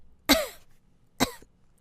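Two harsh, close coughs from one person, about a second apart, with quiet in between.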